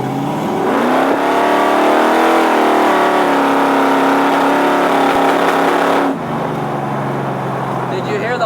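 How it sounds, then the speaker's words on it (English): A 1968 Camaro pro street engine revs hard and loud from inside the car, a sustained rising roar that drops off near the end, with someone talking over it. "You hear the popping up top?"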